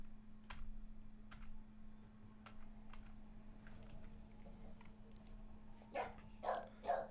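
A dog barks a few times, faint and somewhat distant, mixed with scattered keyboard-like clicks over a steady low electrical hum, then three louder barks close together at the end.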